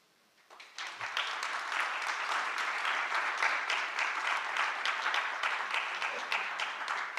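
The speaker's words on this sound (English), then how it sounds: "I would like to thank very much indeed all of our wonderful panelists, and applause would go in here." Sustained applause from the audience for the panelists at a plenary debate of a young leaders' economic forum, rising after a quiet moment and holding steady and dense to the end.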